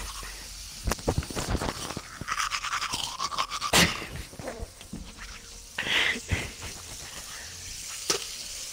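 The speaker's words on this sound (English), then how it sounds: "I could do, like, ASMR toothbrush." A toothbrush scrubs teeth right next to the microphone, giving wet, hissing bristle strokes in irregular bursts, with brief sharp clicks and louder spells of brushing, close and fairly loud.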